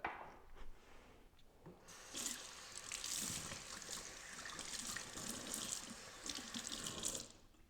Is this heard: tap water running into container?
yes